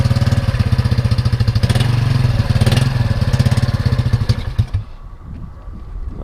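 A 1975 Honda XL175 motorcycle starting cold and running, its small single-cylinder engine thumping in a fast, loud, even rhythm close by before it cuts off and falls quiet near the end.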